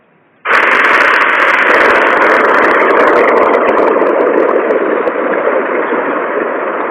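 A rocket launch sound effect from an augmented reality app bursts in after a moment of quiet, then holds as a loud, steady roaring rush that fades only slightly to the end.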